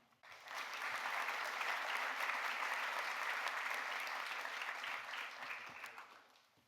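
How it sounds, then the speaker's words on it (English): Audience at a college honors ceremony gives a round of applause for book award winners, steady clapping swelling in quickly, holding evenly for several seconds, then tapering off, heard from a distance. "And if we could extend a nice round of applause to all of our book winners."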